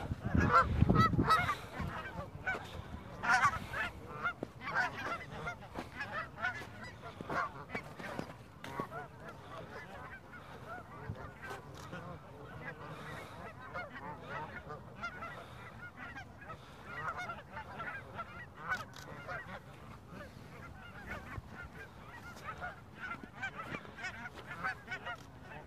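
A one-footed goose honks repeatedly at close range, with a loud burst of honking at first and then quieter, scattered honks and calls continuing throughout.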